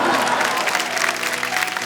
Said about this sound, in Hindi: आपने बहुत अच्छी बात कही और उस पर तालियां भी बज गई